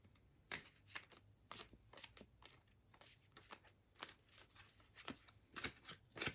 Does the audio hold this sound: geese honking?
no